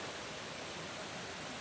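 River water flowing steadily near a campsite, a dense, even rushing noise with no breaks, like a strong stream or small rapids heard close by.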